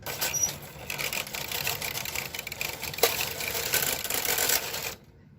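A KH940 knitting machine with the ribber engaged runs through a continuous mechanical clatter and whir as the carriage sweeps across the needle bed for about five seconds, then stops abruptly into silence.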